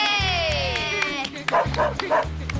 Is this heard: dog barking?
yes